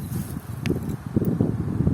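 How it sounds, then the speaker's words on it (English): Gusty wind buffeting the microphone in low uneven rumbles, with faint rustling and a brief click along the way. "It's windy."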